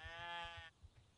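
A single high, wavering sheep bleat from the video game Black & White, with a buzzy harmonic tone, loud and close, ending abruptly and followed by quiet background.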